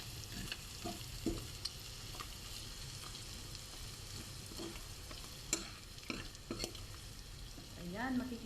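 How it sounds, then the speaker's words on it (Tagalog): Chicken pastil frying in a pan with ground black pepper, stirred with occasional scraping clinks over a steady low sizzle, close and moderately quiet. "Halo-haluin lang din natin."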